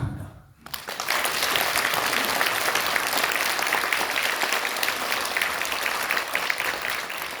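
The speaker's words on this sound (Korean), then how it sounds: "여러분들 다시 한번 큰 박수 부탁드리겠습니다." A quiet moment breaks into loud, sustained audience applause at a political party launch event, dense clapping from a large indoor crowd that continues evenly to the end.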